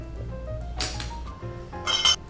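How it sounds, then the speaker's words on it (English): Ice cubes clink and knock against an Old Fashioned cocktail glass, a few bright, close rattles and taps spread over a couple of seconds with no talking. "I've added some ice"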